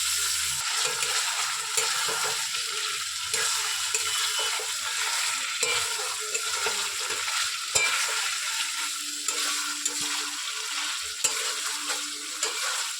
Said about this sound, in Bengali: এবার ভালোভাবে নেড়ে চেড়ে মিশিয়ে নেব